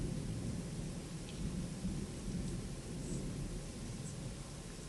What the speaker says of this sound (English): thunder rolling, thunderstorm, more rain, we need it